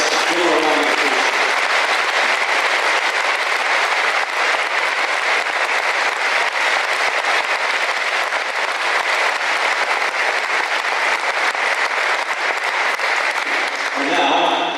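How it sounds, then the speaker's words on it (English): Sustained applause from a gymnasium crowd honoring the members of the 1981 team at a gym dedication ceremony, steady dense clapping filling nearly fifteen seconds, with brief talk at the start and end. "Let's give them a round of applause."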